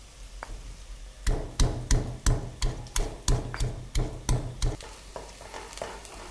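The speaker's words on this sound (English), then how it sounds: "in the meanwhile we can crush our ginger garlic" Ginger and garlic crushed with a pestle, about a dozen evenly spaced heavy thuds in a steady rhythm, close and clear, slowing into a few softer taps at the end.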